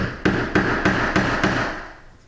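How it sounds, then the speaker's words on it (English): A 10 penny nail is hammered into a solid wooden door jamb during a door installation: five sharp, evenly spaced hammer strikes ring out close and loud, then fade. "Go ahead and get our nail started."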